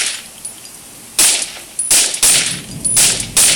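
Gunfire from a mobile shooter game while aiming for a head, several sharp, loud shots in separate bursts with metallic ringing tails, over a quiet background.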